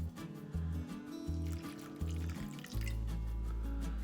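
Vinegar pours into a vinaigrette base in a short, soft trickle of liquid, faint and close, partly masked by a louder low droning tone in the background.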